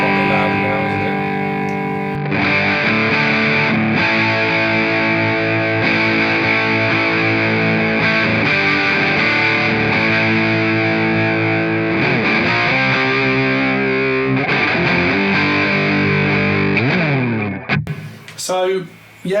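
Electric guitar played through a Marshall BB2 distortion pedal at mid-gain, a loud, sustained overdriven tone with ringing chords and fairly steady playing that cuts off near the end.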